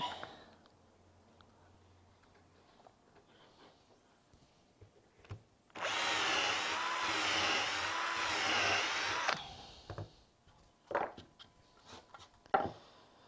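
Drill boring holes in plywood for a rocking footrest, a loud steady whirring burst lasting a few seconds amid scattered clicks and knocks of handling, with quieter tool noises before and after.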